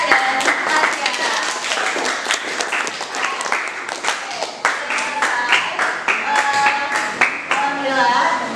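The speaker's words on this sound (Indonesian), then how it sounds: "tepuk tangan untuk tadi Ayah, Aska, dan Aska." A classroom of students claps in an uneven, enthusiastic burst while voices chatter and call out over the clapping.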